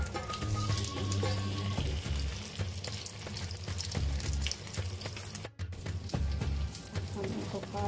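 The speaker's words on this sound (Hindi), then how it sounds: "अच्छी तरह से हाथ को ठंडा लगा के हाथों को अच्छी तरह से धो के" Running tap water splashes steadily as hands are washed under it, a continuous close hiss with a brief cutoff near the end before the flow resumes.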